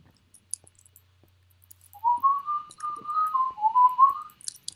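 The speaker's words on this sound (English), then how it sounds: "He was whistling." A person whistles a wavering, sliding tune of several connected notes lasting a couple of seconds, fairly loud and close, with faint clicks from a Minecraft capture-the-flag match around it.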